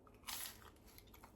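A single close, crisp crunch as fried green plantain is bitten, followed by a few faint, quieter crackling chews.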